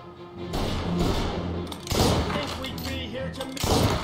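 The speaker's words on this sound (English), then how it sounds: "Bolt action rifle. Take that in, yo." Bolt-action rifle shots fire in the video game Mafia Definitive Edition, with loud, heavy blasts in a burst of gunfire, booming reports separated by short gaps.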